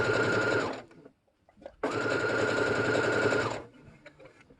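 A serger stitches a fabric face mask in two loud, fast, whirring bursts separated by a brief pause with faint handling noises. The machine is close by and runs alone, without talking.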